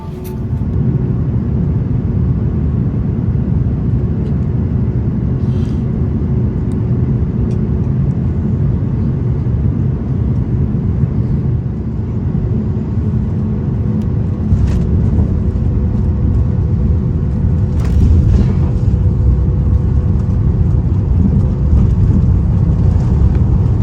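A steady, even roar of jet engines fills an airliner cabin, a deep continuous drone that holds the same level from start to finish with no voices.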